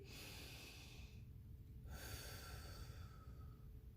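A single deep breath is drawn in slowly and let out again, soft and close in an otherwise quiet room.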